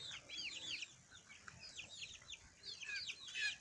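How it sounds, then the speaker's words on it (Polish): A silver pheasant cock with his hens in a yard, moulting in August, giving repeated bright, high chirping and clucking calls in quick overlapping bursts across the whole stretch, fairly close over a steady background hiss. "To jest kogut srebrny z kurkami."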